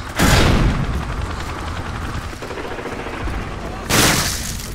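Grenade blast and gunfire in Call of Duty 4, with a loud booming explosion right at the start, a dense rattle of shots under it, and a second heavy blast near the end.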